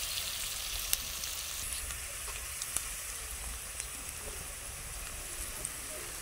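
Onions and green chilies frying in a pan at home, a steady dense sizzle with small pops and crackles throughout, close and even, no talking.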